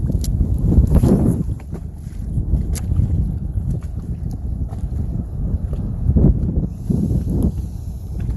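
Wind buffets a bass fishing boat out on open water, a steady low roar of gusts with rushing surges and faint knocks against the hull, no talking.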